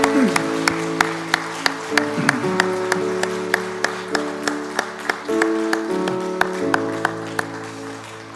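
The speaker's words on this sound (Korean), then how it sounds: "우리 선교팀 자리로 돌아가실 때 응원과 격려 박수 부탁합니다." Church congregation applauding during a Sunday worship service, a moderate steady patter of many hands beneath sustained organ or keyboard chords and some murmuring voices.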